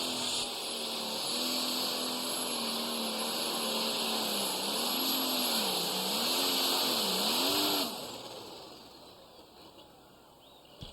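A pulling truck called Bad Company roars at a 2014 tractor pull, its engine holding a loud sustained howl with wavering pitch while it rides up on the wheelie bars, then cutting off sharply near the end.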